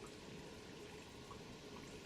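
Spring water trickling and pouring at a spring box beside a horse trail near Skyland and Big Meadows, a soft steady flow with no voices.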